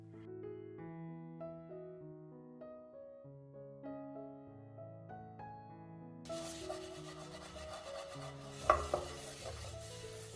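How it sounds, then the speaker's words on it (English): A burnt pan scrubbed with the inside of an orange peel; rough, steady rubbing and scraping starts partway through and continues to the end over background music, with a couple of sharper knocks near the end. "Use the inside of the peel to scrub the burnt areas."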